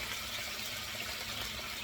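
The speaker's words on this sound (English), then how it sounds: "I just add some water" Water splashes into a hot pan of spicy stir-fried lobster tails, giving a steady, dense hiss of sizzling and steam throughout, close and loud with no talking.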